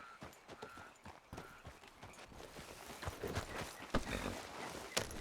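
Horse hooves clip-clopping in the video game Red Dead Redemption II, a quick continuous run of hoofbeats that grows louder and more forceful toward the end, with no speech over it.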